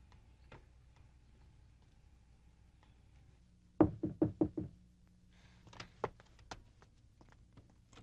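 Knocking on a bedroom door: a quick series of five sharp raps in the middle, fairly close and clear, followed by a few softer scattered taps and faint movement in a quiet room.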